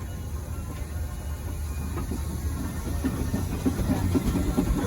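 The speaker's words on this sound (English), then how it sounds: "Another little Aveling roller coming in front of me." A small Aveling steam roller runs at a traction engine rally, a low, steady engine rumble close by with soft irregular chuffing and mechanical knocks growing slightly louder.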